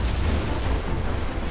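A lightning-bolt god power strikes in the Age of Mythology strategy game, a dense, loud rumbling boom with crackling bursts that fills the whole moment amid the battle noise.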